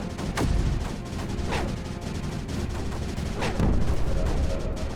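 Mortars firing in the strategy video game Creeper World 4, a string of muffled booming shots at uneven intervals over a dense rumbling battle background, steady and moderately loud.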